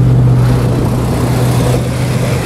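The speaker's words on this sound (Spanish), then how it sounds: "Van muchos carros y se escucha mucho ruido de los carros" Steady roar of cars on a busy road over a bridge near a river in Watsonville, California, a loud continuous traffic rumble with a low engine hum and no distinct single pass-by.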